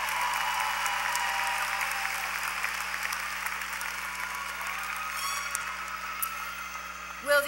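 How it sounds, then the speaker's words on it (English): A graduation ceremony audience gives a sustained, even wash of applause for education and health professions graduates, steady and moderately loud from start to end, with a brief voice at the close. "Let's applaud our College of Education and Health Professions graduates"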